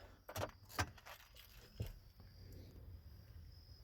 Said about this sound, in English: Make sure you take your keys out of the ignition.